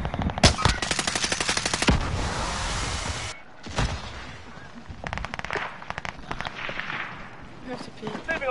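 Gunfire in the Warzone video game: loud rapid automatic bursts up close, then scattered shots and further volleys, with people talking over the shooting.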